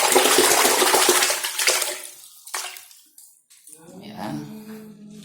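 A washing machine bolt being washed under running water: a loud, close gush of water for about two seconds that then fades and stops, followed by a voice speaking.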